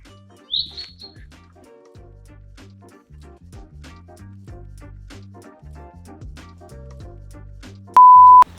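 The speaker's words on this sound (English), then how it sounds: "A noisy ass bird up there." A bird calls overhead at a UK van build site, giving one short chirp early on amid quiet low rumbling background, followed later by a sharp electronic beep near the end.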